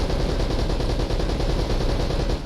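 A machine gun turret firing in Uncharted: Drake's Fortune, a loud, rapid, unbroken burst of heavy automatic shots close up, running nearly the whole time without speech.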